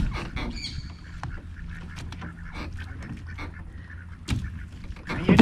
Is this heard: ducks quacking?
yes